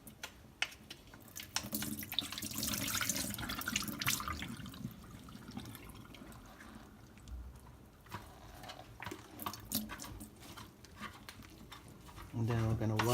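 Tap water runs into a kitchen sink while bitter melon is washed, a faint, uneven splashing and trickling with occasional clatters, soft and close.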